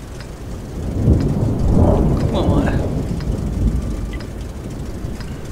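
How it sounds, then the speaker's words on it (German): Heavy rain pours steadily outdoors while deep rumbles of thunder roll in and swell, loud and close, with faint background noises scattered through the storm. "Draußen regnet es immer noch"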